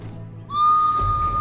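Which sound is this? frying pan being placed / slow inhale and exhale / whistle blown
whistle blown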